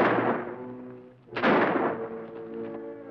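Gunshots in a western TV series episode, two booming shots with long echoing decays, the second one louder, ringing out over a tonal musical score with no talking.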